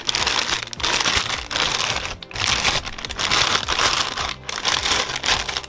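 A large plastic confectionery piping bag for fresh cream is folded back over itself, giving continuous close crinkling and rustling with brief pauses, no talking.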